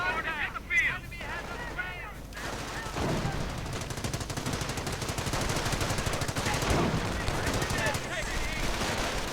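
Heavy machine gun fire in a World War II strategy game rattles in long, rapid bursts against Panzer Grenadiers, continuous and loud after a caster's voice talks over the opening seconds.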